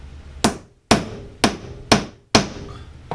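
Six sharp hammer blows strike a steel disc cutter laid over a jewelry ring to flatten it, evenly spaced metallic knocks, close and loud, each ringing briefly before the next.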